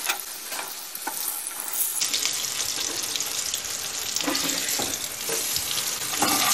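Bonito fillets fry in a pan with a dense, continuous sizzle and crackle, close and steady, with occasional louder spits and stirring-like scrapes, no voices.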